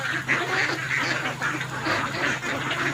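Domestic ducks quacking in a flock, with repeated nasal calls about every half second over a steady background hum, fairly close and without speech.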